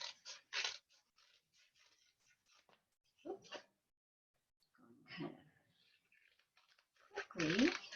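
Scissors cutting out paper circles at close range, with short crisp snips in separate bursts and quiet gaps between, plus a few soft sounds of paper being handled.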